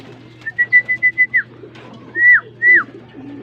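Pigeons arriving and calling, a string of rising whistled coos followed by two longer, louder drawn-out calls, close by over a low background hum, with a person briefly speaking.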